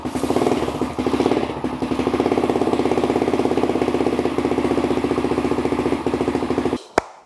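A brand-new TCB 125 motorcycle engine idles steadily after its first start, a close, even mechanical chugging that runs for several seconds before cutting off with a sharp click at the end.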